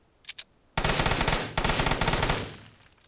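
Automatic gunfire in the online shooter Vigor: two quick shots, then a loud sustained burst of rapid fire that breaks off briefly and resumes before fading out.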